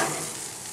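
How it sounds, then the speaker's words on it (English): Turkey burgers sizzle loudly on a grill as they are flipped, a dense, close, steady hiss over a very short moment with no voices. "Okay, these have been on the grill for about 5 minutes, so we're gonna flip them now."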